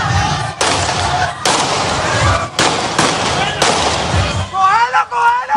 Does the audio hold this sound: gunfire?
yes